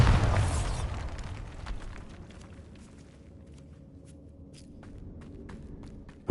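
A Bombarda blasting spell detonates in Hogwarts Legacy right at the start, a heavy boom that decays into a long quiet rumble with scattered small crackles and another sharp hit at the very end.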